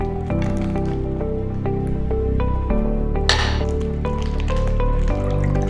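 Excess water draining and dripping from a soaked mushroom substrate block in a growing kit, a close, loud run of wet squelches and irregular drips with a brief splashy gush midway.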